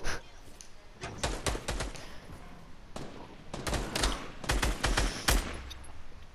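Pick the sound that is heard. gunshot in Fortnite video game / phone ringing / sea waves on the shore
gunshot in Fortnite video game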